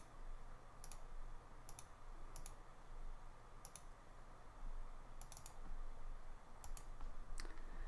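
A computer mouse clicks sharply about eight times at irregular intervals while someone works in 3DS Max, each click crisp and close over a faint room hiss.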